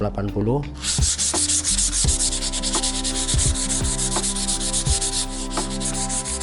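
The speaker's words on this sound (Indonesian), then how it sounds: "jadi kayu yang akan di finishing kita terlebih dahulu kita amplas nomor 180 ya" Close-up, steady rasp of 180-grit sandpaper rubbed back and forth on wood before finishing, in quick repeated strokes, continuous and fairly loud, with no talking.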